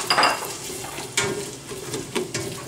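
Onions are stirred into melted butter in a pot with a soft sizzle, while a utensil knocks and scrapes against the metal in several sharp clinks spread across the moment.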